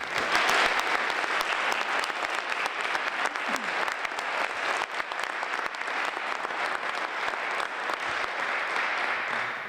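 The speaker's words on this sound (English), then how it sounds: "I'd ask you to recognize them with a round of applause for their service" A crowd at a Purple Heart highway dedication applauds a fallen soldier's family in a long, dense, sustained round of clapping that holds steady throughout.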